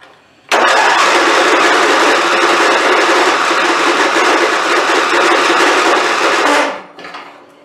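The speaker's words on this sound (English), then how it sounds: "Starter sounds fantastic, doesn't it?" A Craftsman riding mower's engine starter cranks loudly and continuously for about six seconds, a harsh steady whir that stops abruptly, leaving a brief faint rattle.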